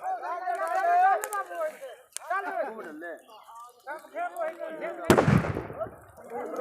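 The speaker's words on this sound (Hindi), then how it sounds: "अब देखिएगा बम फूटेगा अब इसमें" A firecracker bomb bursts once at a village Holika Dahan bonfire in Bhavanipur, a sharp loud bang mid-clip amid continuous excited talking by people nearby.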